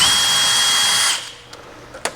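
A power socket driver whirs steadily for about a second while removing a skid plate bolt on a Toyota Tacoma, then stops, followed by a few small clicks and knocks.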